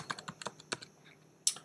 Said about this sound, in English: I just start typing a file system path to where the content is